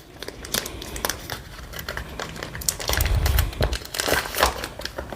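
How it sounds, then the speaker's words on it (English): Loud, close crinkling and crumpling of plastic wrapping tugged from a DJI Osmo Action 4 camera accessory box, continuous rustle with a denser thick crackle midway. "Let me pull the plastic out."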